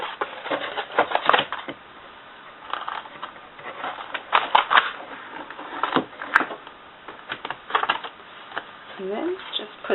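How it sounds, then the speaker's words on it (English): Scissors snip repeatedly through a rubber stamp sheet in close, uneven bursts of crisp cutting clicks, with someone speaking briefly near the end. "just going to take my gummy scissors and cut this"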